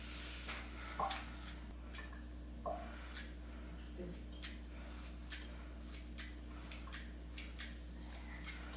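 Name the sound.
cutting chicken breast into small pieces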